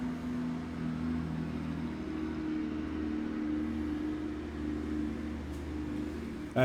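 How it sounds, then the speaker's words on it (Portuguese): A truck rolls past on a main road outside a home, giving a steady, low engine rumble and tire roar that holds at an even level throughout before briefly swelling at the end. "Deixa o caminhão passar."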